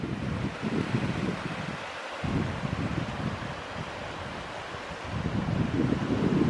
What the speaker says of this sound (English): And the Eagle Creek is running pretty nicely.